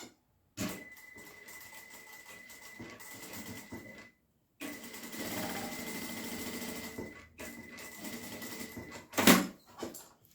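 A sewing machine stitches fabric for an Easter favour panel made of EVA foam and EVA fabric. It runs in two steady bursts separated by a brief pause, and a sharp clack comes near the end.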